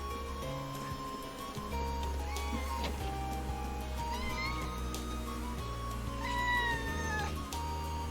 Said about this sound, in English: I hear kitty.